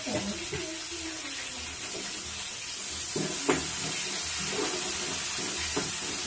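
Ginger and onion frying in mustard oil give a steady broad sizzling hiss with scattered pops and spatters, continuous and fairly close.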